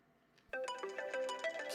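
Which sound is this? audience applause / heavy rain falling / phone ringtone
phone ringtone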